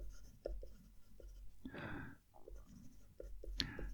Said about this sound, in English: this is so much nicer to write with